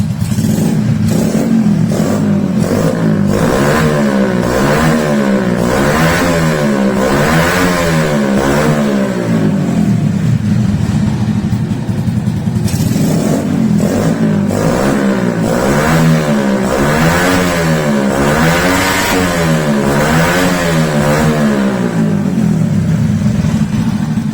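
A motorcycle fitted with a carbureted SND ZS 190 engine in a Daytona Anima replica frame revs up and down repeatedly, loud and close, its pitch rising and falling in waves over a rough, clattering idle.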